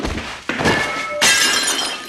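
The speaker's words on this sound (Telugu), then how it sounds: "తను తెచ్చిన ప్లేట్ కింద పడి పగిలిపోతుంది" A plate drops to the floor and shatters: a loud crash, then a second bright burst of breaking pieces that rings on briefly.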